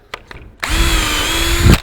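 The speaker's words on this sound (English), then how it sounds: "we're going to drill the first two holes on here" A power drill drills holes in a nightstand frame during assembly, whirring up after a couple of faint clicks, running steadily at high speed for about a second before stopping.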